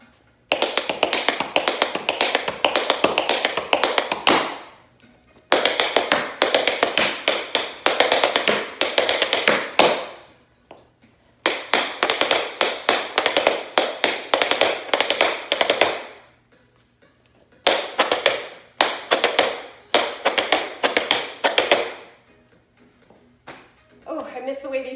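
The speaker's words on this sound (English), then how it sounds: "I'm gonna do some of those moves for you guys so you can hear how these sound." Tap shoes strike a hard floor in fast, dense bursts of sharp clicks, each run lasting several seconds with brief pauses between, loud and close with a faint hum underneath.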